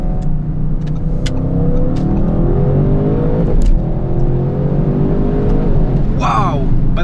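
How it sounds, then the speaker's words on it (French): An Audi RS exhaust pops and crackles as the car accelerates hard, a loud rising engine roar with sharp bursts near the end, heard close from inside the cabin with occasional voices over it. "Et écoute l'échappement."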